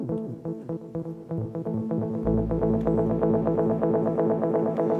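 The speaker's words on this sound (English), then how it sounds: "And like that, I can create the dub effect." Repeating rhythmic tones echo over and over from an Echo Fix EF-X3 tape echo fed back into itself, building into dense, looping dub delay repeats with a sustained low drone underneath.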